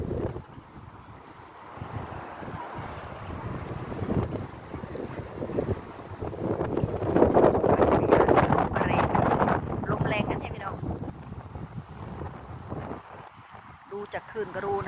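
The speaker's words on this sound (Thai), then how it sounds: "ลมแรงโหดวื้อวื้อวื้อเลย" Strong wind gusts buffet the microphone beside a river as waves slosh and splash, the roar swelling loudest midway before easing, with a voice talking faintly at times.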